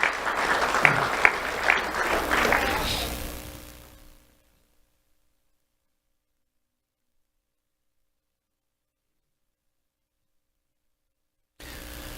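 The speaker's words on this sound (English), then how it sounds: "Let's have a round of applause for Miles Small." A crowd claps loudly for a few seconds, the applause fading out into silence, with a faint murmur returning at the end.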